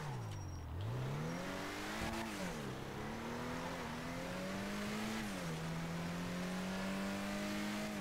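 The Zion Classic sports car in GTA 5 revs its engine steadily, the pitch dipping, climbing and shifting through several rises in a continuous loud game engine drone with no talk.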